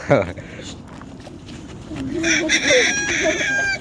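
A rooster clucks and crows while boys chase and try to catch it, with excited voices talking over the bird's calls, which grow louder and more frequent toward the end.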